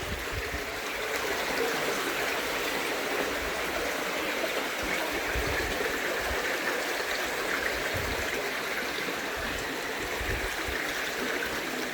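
A stream rushing along toward an embankment near the Glais bridge at Pontsarn, Merthyr Tydfil, making a steady, full, close hiss of flowing water that holds unbroken throughout with no voices.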